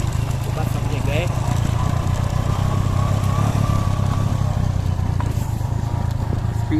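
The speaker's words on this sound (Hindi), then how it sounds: "स्पीड जो है इस वक्त हमारी बाइक की वो चल रही है कोई 10 किलोमीटर फी घंटा के हिसाब से" Motorcycle engine droning steadily while crawling at about 10 km/h over a rough, stony mountain track toward Tirich Mir base camp, loud and close, with crunching gravel and rattling throughout.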